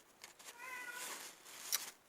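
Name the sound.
cat meowing at the door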